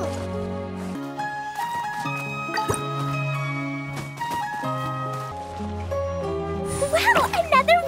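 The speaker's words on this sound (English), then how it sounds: "Wow, another water droplet just came out from the wall!" A water droplet emerges from a wall in Genshin Impact, giving a bright watery blip set against steady, layered game music.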